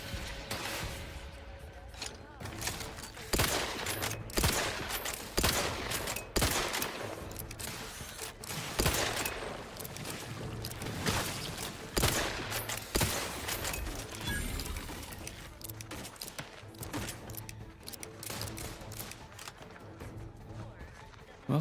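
Rapid bursts of gunfire from the video game The Outer Worlds 2, repeated volleys and single shots spread across the whole stretch at steady loudness, with a voice talking over parts of it.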